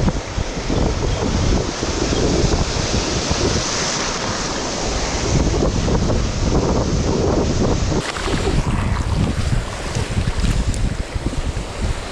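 Ocean waves surge and break over a rocky shore during shore fishing, a continuous loud roar of surf with wind buffeting the microphone and no talk.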